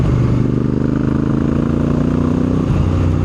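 A sports motorcycle with an aftermarket exhaust idles and blips its throttle nearby, giving a loud, steady, throbbing engine note with a low rumble and a slight dip near the end.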